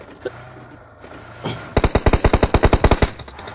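Automatic gunfire in the mobile shooter game BGMI: a loud, rapid burst of about fifteen evenly spaced shots fires after a brief, quieter lead-in.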